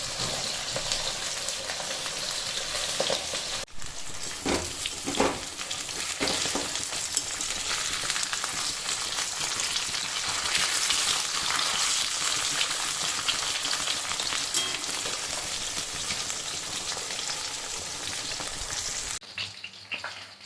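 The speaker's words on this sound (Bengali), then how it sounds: "মাছ প্রায় একদিক ভাজা হয়ে এসছে, এবার একটু উল্টে দেওয়ার পালা।" Small fish frying in hot oil, one side nearly done before turning, giving a steady dense sizzle that continues for the whole stretch with occasional pops and crackles, with no voices.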